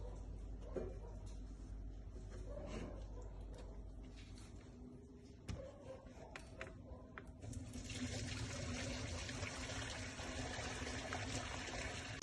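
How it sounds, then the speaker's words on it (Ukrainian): Quiet trickling and splashing of water being poured off boiled hay for mushroom growing, with a few soft knocks and a louder rush of draining toward the end. "вимикаємо вогонь та зливаємо воду"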